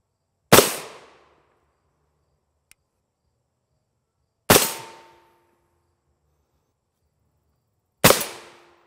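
Three sharp, loud M855A1 rifle shots are fired from a 10.5-inch barrel at body armor, spaced a few seconds apart. Each crack decays quickly into a quiet outdoor range.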